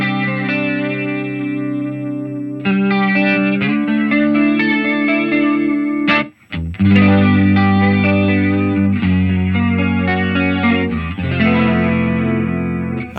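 A guitar played through a Line 6 HX effects processor set to a vintage, old record player style tone, distorted and chorused chords ringing steadily with a brief gap midway, no talk.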